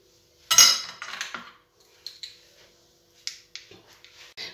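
A kitchen knife slicing cucumbers, tomatoes, eggs and onions into rounds gives a few crisp taps and clicks against the board, a louder cluster early then lighter scattered strokes with quiet gaps between.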